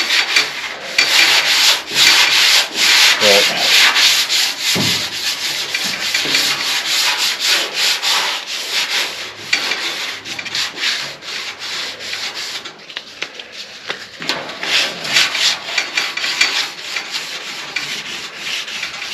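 Steady, loud rasping of sandpaper worked over primer on the body of a 2002 Ford F350 under rust repair, continuous scrubbing strokes with brief shifts in rhythm.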